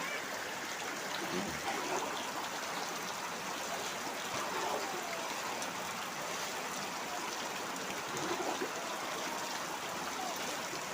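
Rainwater pouring into a flooded house, a steady, continuous trickling and gushing flow of moderate loudness that persists throughout.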